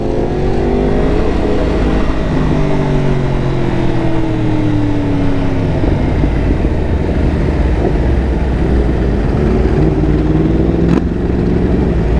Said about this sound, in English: Dude, that V4 sounds wild.